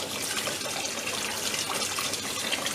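Hot water pours steadily into an Indesit washer dryer to flush out a blockage, a close, constant gushing and splashing without pause.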